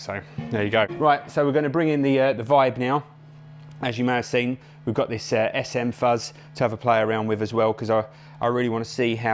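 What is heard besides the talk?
None of the usual background noises is heard.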